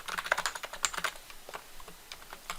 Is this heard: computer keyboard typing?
yes